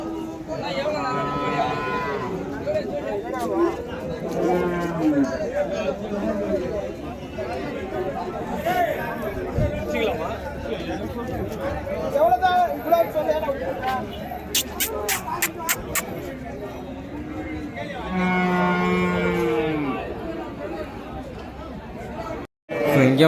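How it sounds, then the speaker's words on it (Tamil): Native cattle low repeatedly at a Vaniyambadi livestock market, several long moos rising over steady crowd chatter and the general bustle of the cattle fair. "ஸோ இங்கே ஒரு நாட்டு பசுமாடு இருக்குது."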